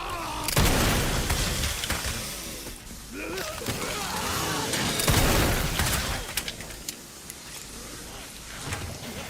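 Gunfire in the Resident Evil video game: scattered booming shots and bursts of rapid fire come at irregular intervals, loud and punchy, with quieter clatter between volleys.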